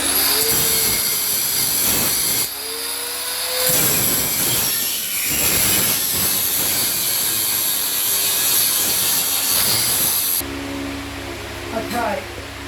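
Angle grinder cutting deep into metal on a motion sim platform frame, a loud harsh grinding screech that rises and falls as the disc bites, with brief pauses, running close up for most of the stretch.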